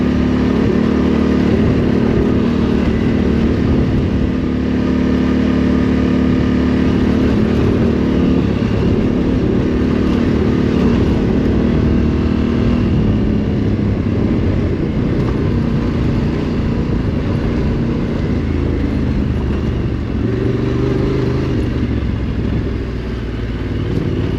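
A big motorcycle rides steadily along a desert road between Ouarzazate and Zagora in Morocco, its engine droning loud and continuous with wind rush and slight shifts in pitch throughout, with no talking.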